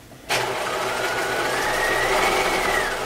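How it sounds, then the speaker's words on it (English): A sewing machine starts abruptly and runs as a steady, close whirring drone with a faintly rising whine, stitching along the turned-up hem of a vintage-style picnic skirt. "So we're just stitching along that edge."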